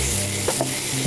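Food sizzles continuously while being stirred in a frying pan, a dense, loud frying hiss with brief scraping stir sounds.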